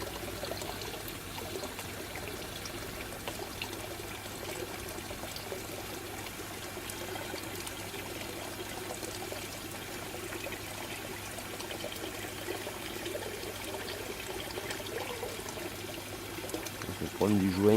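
Water flows steadily through a homemade U siphon, making a soft, continuous trickling pour at low volume, with someone talking quietly over it.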